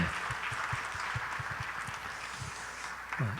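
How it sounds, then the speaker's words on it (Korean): A church congregation clapping together during a Sunday worship service, a brief run of fairly quick, even claps heard from within the hall at moderate volume. "우리 박수로 한번 축복하겠습니다"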